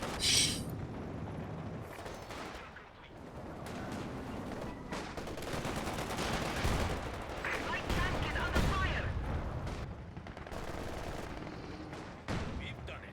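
Aircraft strafing run in a strategy video game, with sustained rattling gunfire and mechanical clatter rolling across a busy battlefield, mixed with commentary voices.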